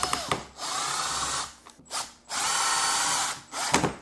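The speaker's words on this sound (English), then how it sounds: "now we are ready to secure this and screw it into the junction box" A power drill driving screws to fasten a USB wall outlet into a junction box, two sustained whirring runs broken by brief stops and clicks, close and loud, with no talking.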